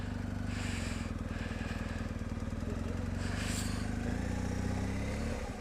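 Motorcycle engines rumble steadily on a mountain road near the Grossglockner biker point, a continuous low drone with bikes swelling past around the first and fourth seconds.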